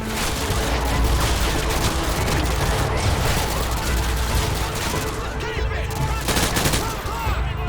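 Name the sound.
heavy gunfire, Call of Duty Modern Warfare 2 video game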